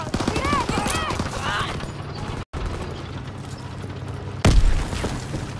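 Gunfire and mechanical clatter from Call of Duty WW2 multiplayer rattle in short loud bursts, with a heavy blast near the end and a voice briefly audible early on.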